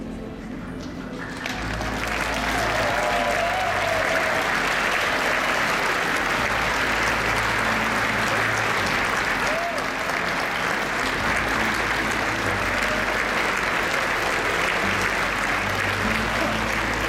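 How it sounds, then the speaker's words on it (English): A large convention audience applauds for the Kiwanis Asia Pacific governors in Las Vegas, a dense, sustained roar of clapping that swells after a brief spoken moment and continues loudly for many seconds. "Let's give them one big clap."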